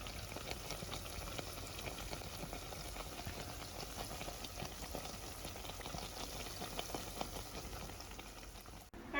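Funnel cake batter fries in hot grease, a soft, even bubbling hiss with fine crackles that stays fairly faint and steady throughout, no talk.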